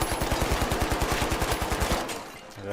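Rapid automatic gunfire in a first-person shooter game, a fast even burst of roughly a dozen loud close shots per second that stops abruptly near the end, leaving a brief tail.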